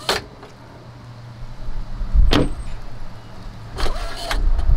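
Aries electric running boards on a 2021 Ford Bronco deploy with quiet motor whirs and soft clunks at the start and end of travel, heard up close with no speech.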